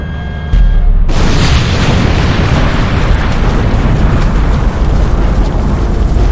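Massive reactor core meltdown explosion in the video game Lethal Company: after a low hum, a sudden loud boom bursts in and gives way to a sustained roaring, rumbling blast that fills the rest of the clip.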